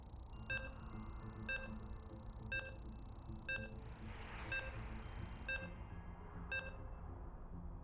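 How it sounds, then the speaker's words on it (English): Short electronic beeps repeat steadily about once a second in StarCraft 2 as a match loads, each a bright tone over a constant low hum. "So you can hear the beeps, and we are loading into"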